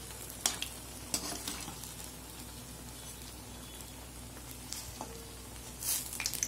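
Bread potato balls frying in hot oil, a continuous close sizzle with a few light clinks and taps as they are turned, otherwise steady and uninterrupted.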